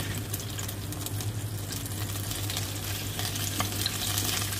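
Capsicum pieces frying lightly in hot oil for a shahi dahi paneer, giving a steady, close sizzle that holds evenly throughout with no voices.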